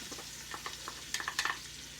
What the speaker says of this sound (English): And I'm going to start to continue to saute those with the bacon